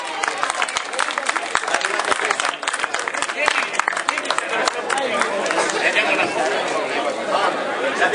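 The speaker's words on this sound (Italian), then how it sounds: "Un bel sorriso, il vostro grande applauso" An audience at a local event in Stienta applauds, a dense steady patter of many hands clapping mixed with crowd chatter, fairly close and lasting throughout.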